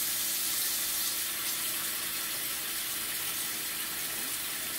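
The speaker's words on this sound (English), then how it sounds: "and let it fill up with a little water" Steady rushing of water pouring from a tap into a sink, filling it, constant and close, with no voices.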